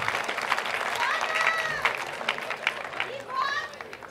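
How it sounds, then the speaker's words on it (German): Applause from a science slam audience, steady clapping spread through the room with a murmur of voices and some whistling on top. "Ja, doch bitte, ein Applaus."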